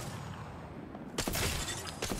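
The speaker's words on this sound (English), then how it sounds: "I broke a shield." A shield breaks in Apex Legends gameplay, a sudden bright shattering burst followed by a few sharp crackling hits, loud and close after a quieter stretch.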